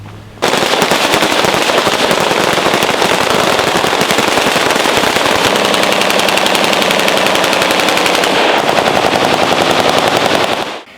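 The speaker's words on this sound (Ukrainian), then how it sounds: "Ці постріли в честь товаришів по службі, які не змогли вийти з оточення" Sustained rapid automatic gunfire from a military salute, loud and close, bursts running almost continuously for about ten seconds with no pauses.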